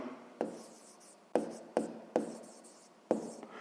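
A pen writes out a maths expression on paper, six or so sharp taps of the tip landing, each followed by a short fading scratch, close and fairly quiet.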